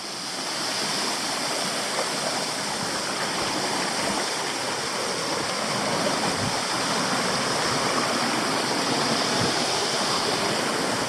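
Water pours steadily at the base of Shower Falls near Waterfall Bay, Tasmania, a broad, constant rush filling the scene evenly from start to finish with no voices.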